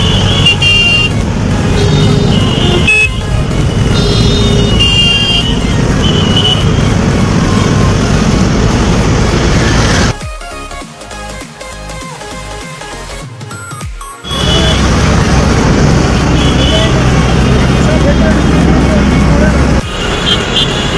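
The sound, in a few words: road traffic on Howrah Bridge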